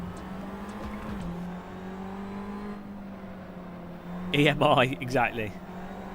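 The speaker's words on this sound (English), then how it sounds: "This is Assetto Corsa, the best sim" A simulated race car in Assetto Corsa hums steadily with a low engine drone, then briefly revs high and whines before settling, while a person talks over it.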